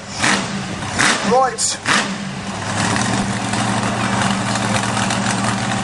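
A monster truck engine idles with a loud, steady rumble at a Bug Jam motorsport show, after a brief rev and a few clattering bursts near the start. A voice says a word over the engine noise.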